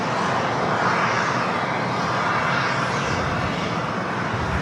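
Air New Zealand Boeing 777-300ER jet engines roar in a loud, steady broadband rumble at LAX, sustained and unbroken throughout.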